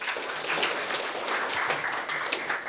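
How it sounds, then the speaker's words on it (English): An audience gives a steady round of applause at a youth coding showcase event, with dense, even clapping that holds at a constant level throughout and no voices. "Can we get a big round of applause?"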